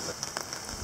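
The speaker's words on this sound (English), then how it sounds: "It's raining again." Steady rain falling in a coastal outdoor setting before a kayaking outing, a soft continuous hiss with scattered faint drops tapping nearby.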